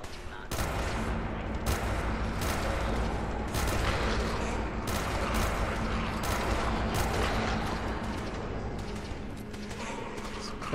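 Nonstop automatic gunfire in Fallout 4, played as a hardcore zombie survival run, with rapid loud bursts and sharp individual shots sustained over a steady low hum.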